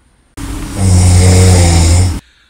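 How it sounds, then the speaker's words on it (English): One long, loud snore, a deep rattling rasp that holds for nearly two seconds before cutting off into near silence. "The motherfucker snored loudly."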